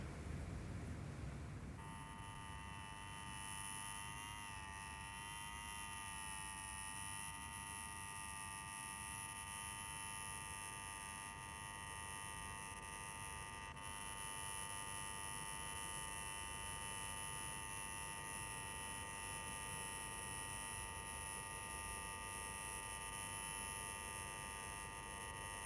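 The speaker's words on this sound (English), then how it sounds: "Take your finger off that bleeding buzzer." A steady electronic buzzer drones on continuously at low volume, an unbroken tone held for the whole stretch with faint background noise beneath it.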